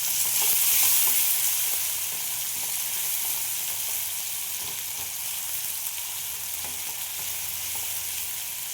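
Chopped onion frying in a pan with green chilli, a dense, continuous sizzle close up, a little louder at first and then settling to an even hiss, no voices.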